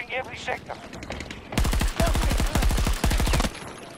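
Rapid bursts of assault rifle fire in Battlefield 2042, several loud rattling volleys in quick succession, with quieter game sounds and faint voices before and after.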